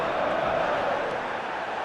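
Stadium crowd ambience from an eFootball 2024 match, a steady, dense wash of distant fans murmuring and chanting at constant loudness throughout.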